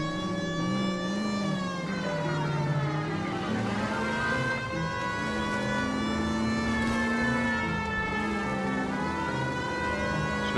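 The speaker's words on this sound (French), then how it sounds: "Je mets la sirène." A police car siren in the video game L.A. Noire wails loudly and continuously, its rising and falling tone sweeping up and down in repeated cycles.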